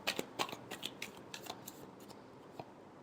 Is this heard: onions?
no